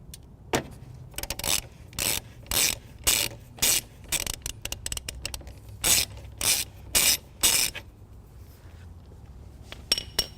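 Ratchet loosening the positive terminal nut on a 2012 Dodge Journey car battery, giving a steady run of loud, evenly spaced clicking strokes up close that break off, then a few final clicks.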